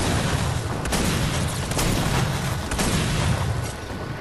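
Weapons unload in the video game Fortnite: a continuous, loud barrage of booming gunfire with rapid overlapping shots and a few sharper bursts, fading a little at the end.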